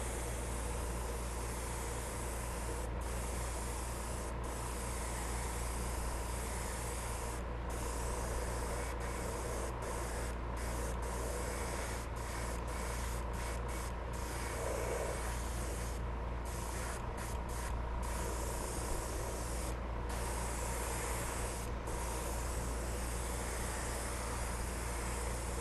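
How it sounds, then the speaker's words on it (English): An airbrush sprays paint onto the engine nacelles of a 1:350 scale Enterprise refit model, hissing steadily for a long stretch, a soft continuous spray broken by brief pauses, close and fairly quiet. "Just a quick little test spray to make sure everything's going good."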